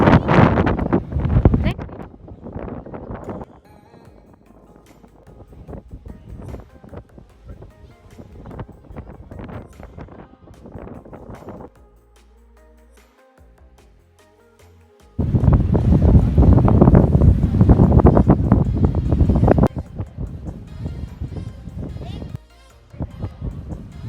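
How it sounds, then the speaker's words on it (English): Wind buffets a beach in Bahrain, roaring in heavy gusts that swell loud near the start and again past the middle, with calmer stretches between and people talking faintly under it. "It's very breezy."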